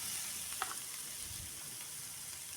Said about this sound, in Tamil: நல்லா கலந்து நல்லா வதங்கி வரணும்